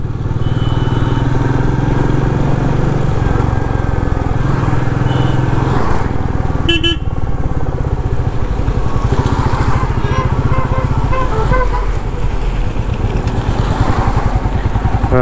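A motorbike rides along a waterlogged road out of Kolkata that heavy lorries have worn rough, its engine a steady, close, continuous drone with broad wind and road noise throughout and a brief sharper burst near the middle.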